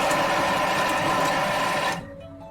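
A Thermomix runs at speed 5 for a few seconds, chopping ingredients for breakfast bars. It makes a loud, steady whirring buzz that cuts off abruptly, leaving a quiet hum behind.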